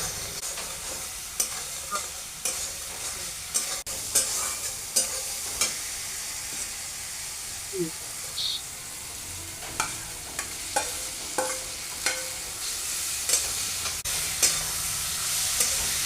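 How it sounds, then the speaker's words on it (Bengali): Fried pointed gourd is stirred with poppy seed paste and spices in a pan. A soft, steady sizzle runs under regular scraping taps of a spatula that repeat about every second, close and moderately loud. "পোস্তটা কষানো হয়ে গেলে তারপর দিয়ে দেব ভেজে রাখা পটলগুলো দিয়ে আবারও মশলার সাথে কিছুক্ষণ নেড়ে নেব।"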